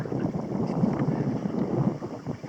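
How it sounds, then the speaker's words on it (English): Wind blowing at Clear Lake in autumn, a steady low rumbling buffet against the microphone, fairly loud and continuous with no talking. "The wind stirs around up quite a bit down here."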